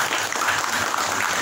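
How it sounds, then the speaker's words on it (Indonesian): A roomful of people at a talk or seminar applauds in a short, continuous burst of clapping, fairly close and even in level. "Tepuk tangan dan buat kita semua."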